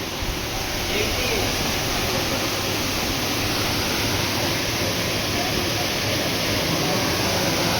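Loud, steady rushing water roars continuously close by, a dense broadband torrent with no pauses.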